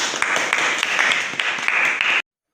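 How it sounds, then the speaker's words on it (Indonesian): Classroom applause from students for a classmate named Nazma, steady crisp clapping from a small group, close and lively, ending abruptly. "Teman-teman berikan aplaus kepada Nazma"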